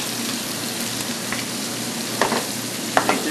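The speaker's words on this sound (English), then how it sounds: "Just toss the spinach into the pan with the butter." Spinach sautés in butter in a hot pan, a steady, fairly loud sizzle with a few sharper scrapes and tosses toward the end, with no one talking.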